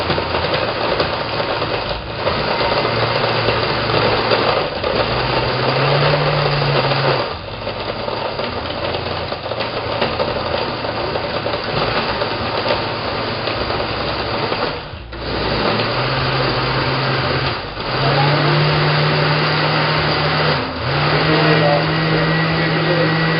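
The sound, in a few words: blender spinning a smoothie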